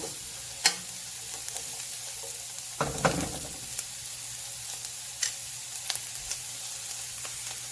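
Onions and carrots fry in a pot for Trinidad corn soup, a soft steady sizzle broken by sharp scrapes and clacks of a utensil stirring, one louder burst of stirring midway, with no talking.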